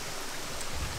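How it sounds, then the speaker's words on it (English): Heavy rain falls steadily outdoors in a landscape setting, a dense, even hiss of drops with no voices. "the rain is really starting to come down now"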